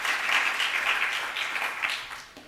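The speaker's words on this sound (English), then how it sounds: "Maybe we could give her a round of applause in absentia." An audience at a film industry talk claps in a brief, moderately loud round of applause that swells and then tails off over a couple of seconds.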